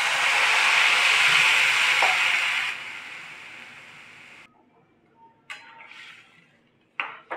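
Water poured into a hot pan of drumstick curry with ground ginger and green chilli, a loud steady sizzling hiss for nearly three seconds that fades, followed by a few brief clinks of utensils against the pan.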